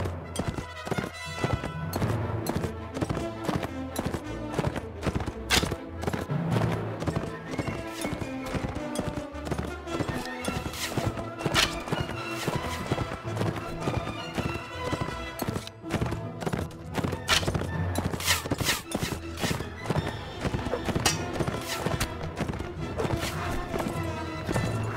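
Horse hooves gallop in Mount & Blade: Warband, a fast, continuous clip-clop beat running the whole time beneath dense battle sounds and music.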